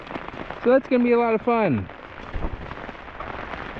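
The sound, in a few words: cold rain falling at a woodland hammock camp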